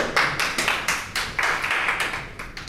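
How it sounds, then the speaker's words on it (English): A small workshop audience claps briefly, a few close, sharp hand claps with a loose, irregular rhythm over a short burst of applause. "a round of applause"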